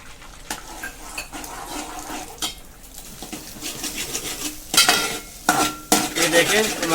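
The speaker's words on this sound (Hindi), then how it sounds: "पहले मैदे को फ्राई कर लेंगे।" Maida flour fries in hot oil in a pan, with a continuous sizzle under repeated clattering scrapes and knocks of a spoon against the pan, growing busier and louder toward the end.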